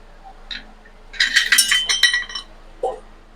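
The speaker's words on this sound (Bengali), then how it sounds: "এবার আমি এটাকে ঢাকা দিয়ে একটু ফুটিয়ে নেব।" A lid is set onto a pot of simmering eggless vegetarian omelette curry, giving a short run of close, bright metallic clinks and rattles, with faint taps just before and a single knock after.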